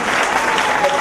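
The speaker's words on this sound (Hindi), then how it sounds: "एक बार जोरदार ताली" Loud, dense audience applause fills a free prosthetic limb and calipers distribution camp, a full burst of clapping from a crowd close by.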